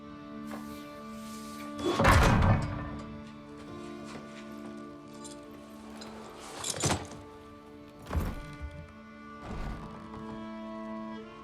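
Kratos sets an object down on a wooden table in God of War Ragnarök with a heavy thunk, then several softer thuds follow over a quiet, sustained musical backdrop.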